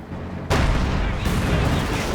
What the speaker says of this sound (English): Anti-tank grenade successfully pierces the rear.